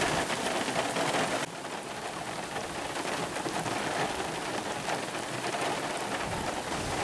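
Steady, dense rain patters and hisses on surfaces throughout, a constant wash of sound with no voices.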